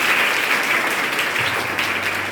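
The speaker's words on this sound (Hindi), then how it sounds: "बहुत बढ़िया, ताली बजाओ सब लोग" Students clap together in a classroom in a dense, steady burst of applause that fills the room for a couple of seconds with no talking over it.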